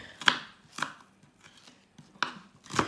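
A knife chops the last onion in four sharp, close strikes on a board, spaced unevenly with quiet pauses between them.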